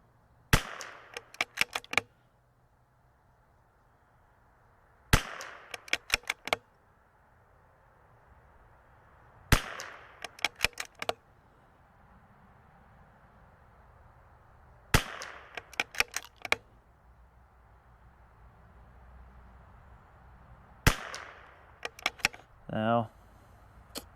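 A Vudoo V22 precision rimfire rifle in .22LR fires four times at roughly five-second intervals. Each sharp, fairly faint crack is followed by a quick cluster of clicks over a quiet background.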